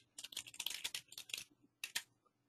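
Quick bursts of clicking on a computer keyboard as an email address is typed in, close and quiet, with a run of rapid keystrokes, a pause, then a final short pair of clicks.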